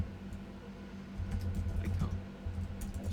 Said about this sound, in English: Just type in web and whatever your query is.